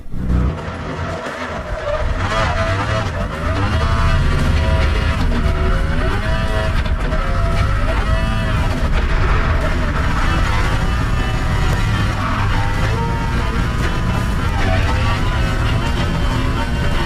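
Mazda MX-5 drifting with its engine roaring loud and sustained, revs rising and falling over a steady rumble, with tire noise and skid hints mixed in throughout.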